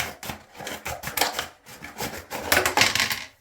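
Plastic takeout container being cut in half, with scraping, crackling strokes in uneven bursts, close and fairly loud, each pass ending in a brief brittle snap.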